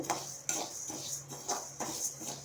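Black gram (urad dal) dry-roasting in a pan, stirred with a utensil in steady, rhythmic scraping strokes about twice a second, close and fairly quiet, with no talking.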